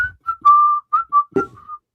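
A person whistles a short tune of bright, clear notes: several brief chirps and one longer held tone, close and fairly loud, with a soft thump partway through and no talking.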